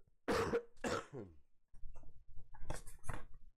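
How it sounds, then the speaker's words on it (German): Two sharp, close coughs in quick succession, followed by a stretch of lower rumbling and muffled throat sounds. "Entschuldigung für den Husten"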